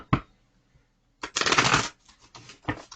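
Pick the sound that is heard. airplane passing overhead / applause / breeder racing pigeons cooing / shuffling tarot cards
shuffling tarot cards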